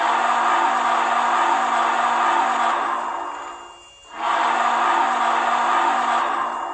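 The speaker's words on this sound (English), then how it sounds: "And 2 is the whistle." An MTH HO scale Southern Pacific GS-4 #4449 model steam locomotive's sound-module whistle gives two long, loud, steady chime blasts separated by a short gap, close up and alone.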